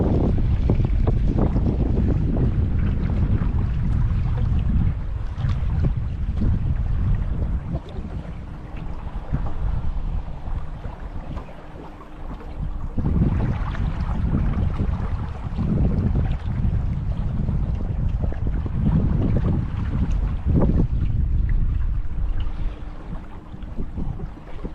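Strong, steady wind buffets the microphone during a boat ride near Hoover Dam, a constant loud roar with gusty swells and an underlying engine rumble, and no talking.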